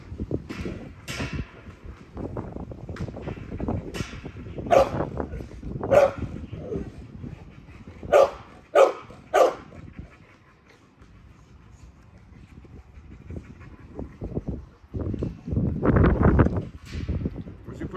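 Dogs bark in short, loud bursts scattered through the scene, mixed with yips and whimpers, while someone talks around them and rustling and movement fill the gaps.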